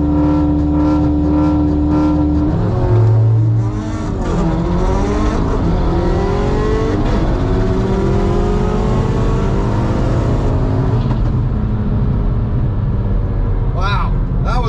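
Engines of street cars in a seven-car drag race shootout rev and accelerate hard, with rising and falling pitch sweeps as they pull away, loud and close, with voices talking over the roar.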